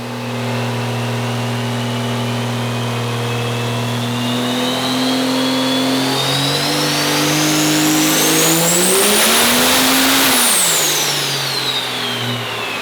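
A 2000+ horsepower engine with a 110mm turbo and nitrous on a dyno, droning loud and steady before revving up sharply to a screaming peak and then dropping off, with no one talking.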